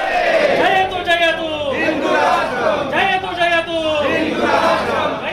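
A large crowd of Hindutva supporters at Trimbakeshwar temple chants loudly in rising and falling waves of many voices, close and continuous throughout.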